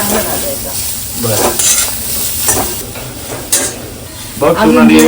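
Chopped onion frying and sizzling in a pan for a spicy crab curry, with stirring scrapes throughout and a steady close hiss; brief voices are heard near the end.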